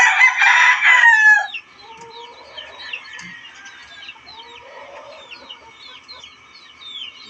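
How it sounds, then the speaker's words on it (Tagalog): A backyard rooster gives one loud, near crow, followed by fainter clucking and chirps from chickens and birds around a yard. "Yung aking manok po."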